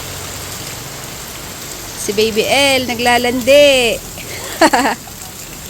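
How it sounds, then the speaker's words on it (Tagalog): Rain falls steadily on an outdoor rural surface in the Philippines, a soft continuous hiss running under a person speaking for a few seconds. "bigla na lang pong umulan"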